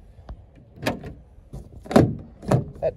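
The door of a Ford Transit Connect work van is worked several times, a few short knocks and thuds with clunks of the latch, close and fairly loud with no talking.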